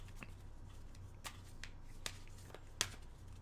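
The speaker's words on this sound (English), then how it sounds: "I'm going to shuffle a little bit." Tarot cards are shuffled by hand in a quiet room, giving a few faint, sparse riffles and soft taps with one sharper snap near the end.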